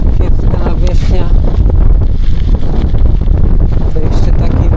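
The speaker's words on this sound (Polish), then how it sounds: "to jeszcze taki wiatr, że nawet 15 na godzinę nie jestem w stanie ujechać" Strong wind buffets the microphone while cycling along a rough, poorly surfaced road, a loud continuous roar with a voice speaking underneath.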